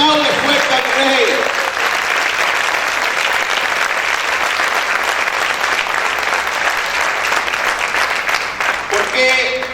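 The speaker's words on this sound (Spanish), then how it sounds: "Aplaude fuerte al Rey." Sustained loud applause from a church congregation, thick steady clapping filling nearly ten seconds, with a voice heard briefly at the beginning and again as it fades out.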